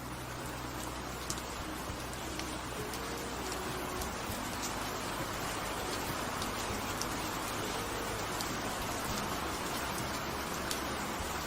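Light rain drizzle falling steadily in a village setting, a soft constant hiss with scattered faint drop ticks, even and close throughout with no talking.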